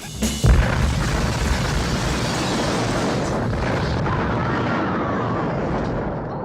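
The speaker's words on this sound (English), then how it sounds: "And that leads us to a very big explosion." A deep, rumbling explosion in the film The Nutty Professor bursts and then rolls on as a long, loud roar of debris and reverberation that slowly fades.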